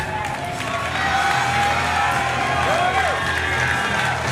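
At a Coastal Combat amateur fight night, a crowd cheers for fighter Tiah Henderson, a steady wash of loud shouting and whoops from many voices, with a commentator talking over it.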